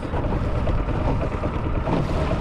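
Small homemade duck boat with its motor idling on choppy open water, a steady broadband rumble mixed with wind buffeting the microphone, continuous and fairly loud throughout.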